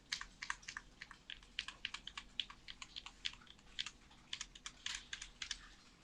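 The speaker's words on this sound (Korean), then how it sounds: "위, 아래, 왼쪽, 오른쪽 방향키 5번씩 누르실게요." Arrow keys on a computer keyboard are tapped in quick, steady succession, a run of crisp, close, fairly quiet clicks with no talking.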